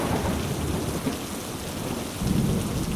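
Heavy rain pours steadily with deep rolling thunder rumbling underneath and a louder thunder swell near the end, a continuous storm sound effect for a horror radio drama, with no voices.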